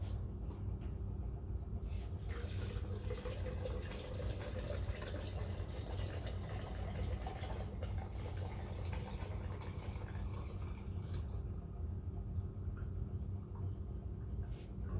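A diesel fuel additive pours steadily into a container for several seconds over a low engine-like rumble, with a faint rising gurgle as it fills.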